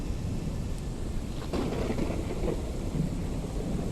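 Steady rain with a rumbling undertone of thunder in a PSVR2 virtual reality game, a dense, even wash of sound that fills the whole span without any voices.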